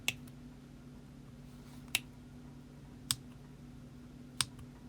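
Small scissors make tiny snips through stitching on fabric, four sharp, faint clicks spaced about a second apart over a low steady hum.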